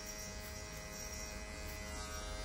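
An electric hair clipper buzzes steadily through a haircut session in a salon, a continuous close, moderately quiet hum with no talk over it.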